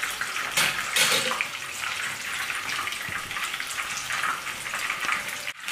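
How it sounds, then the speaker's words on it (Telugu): Chicken leg pieces fry in hot oil for a chicken fry biryani, giving a loud, steady, close sizzle with crackling texture that runs unbroken throughout, with no voices. "సూపర్గా వేగుతున్నాయి చికెన్ ముక్కలు"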